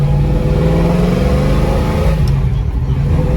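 A 1967 Ford Mustang accelerates hard and shifts gears, its engine roaring loud and close, with a brief dip in pitch at the gear change before it pulls again.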